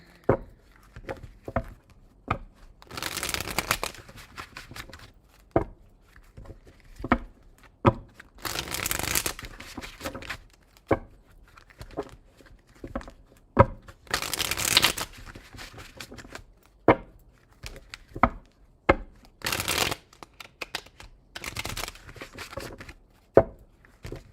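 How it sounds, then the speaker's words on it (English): Tarot cards are shuffled by hand in repeated bursts, with crisp riffling flurries at intervals between softer taps and handling noises, close and fairly loud with no talking. "I need to shuffle these cards again."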